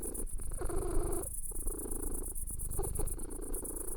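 A cat purring on a person's lap, close and continuous, with a soft rhythmic rumble that swells and dips with each breath.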